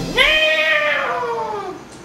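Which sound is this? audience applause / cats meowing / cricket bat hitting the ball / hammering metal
cats meowing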